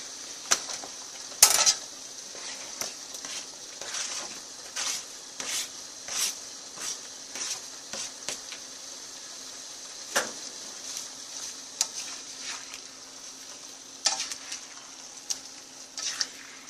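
Green pepper and onion in a stir fry: a steady, quiet sizzle under repeated scraping and clinking of a utensil against the pan, with irregular stirring strokes throughout.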